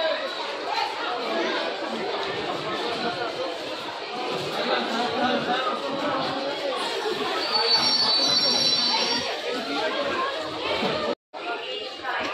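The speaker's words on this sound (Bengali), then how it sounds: "ট্রেনে উঠে পড়েছি আর 10 মিনিট বাদে ট্রেন ছাড়বে।" Steady crowd chatter fills a stationary train carriage while passengers wait for departure on a Santragachi to NJP rail journey, a continuous murmur of many voices with a faint high squeal near the end.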